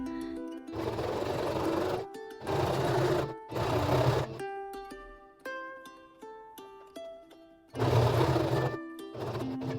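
A domestic sewing machine stitches a clean seam in fabric, running in loud, steady bursts of rapid mechanical whirring. Short pauses separate the runs, and ringing tones fill one quieter stretch between them.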